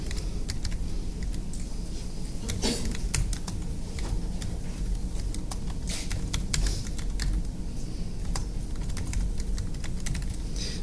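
Steady keyboard typing with fast, irregular key clicks running continuously, close up, with no voices.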